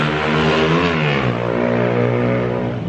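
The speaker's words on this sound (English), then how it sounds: "You get some loud motorcycles too." A loud motorcycle revving nearby on a provincial road in the Philippines, engine pitch climbing and then settling into a steady drone, with no talking.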